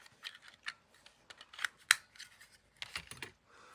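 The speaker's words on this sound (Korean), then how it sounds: "저는 이 동그라미로 자르는 펀치가 있어서 이걸로 자를 건데 이렇게 갖다 대고 누르면 동그라미로 잘립니다" A circle punch presses through paper for a vintage envelope, giving quiet close clicks and crisp snaps in an irregular series with one sharper punch-through in the middle.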